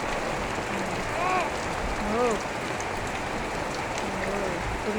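Steady heavy rain hisses broadband throughout, with faint tonal voices or calls rising briefly over the downpour.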